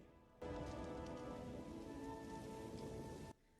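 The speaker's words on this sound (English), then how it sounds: "Now all of a sudden rain come." Rain falls in The Lion King as a steady, dense hiss that starts abruptly, holds evenly for about three seconds, then cuts off sharply. It is faint overall, with no voices.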